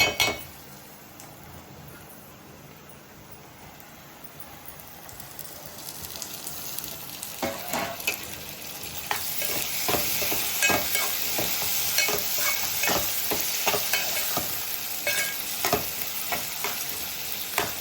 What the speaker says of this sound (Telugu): ఇప్పుడైతే టమాటా ముక్కలు వేసేసుకుంటా